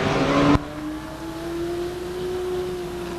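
Race cars at Stockton 99 Speedway, including the 10 and 66 cars, open with a loud burst that cuts away to a steady, rising engine whine held for the remaining seconds at moderate distance.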